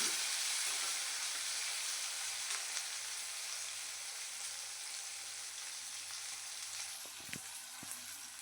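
Finely chopped tomato cooks with cabbage in a pan, a steady close sizzle that slowly softens, with a few clicks of stirring near the end.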